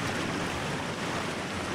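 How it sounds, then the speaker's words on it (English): Waterfall inside a VR video game, a dense, steady roar of rushing water that fills the clip evenly and loudly with no pauses or talk. "Now I'm in the waterfall."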